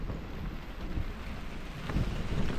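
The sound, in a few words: thunder and rain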